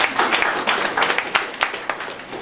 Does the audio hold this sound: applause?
yes